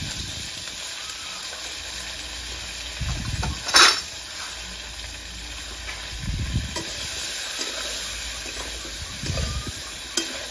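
Potato and cauliflower pieces fry with turmeric and salt in a pan, giving a soft, continuous sizzle under occasional louder bursts of stirring and the scrape of a utensil against the pan.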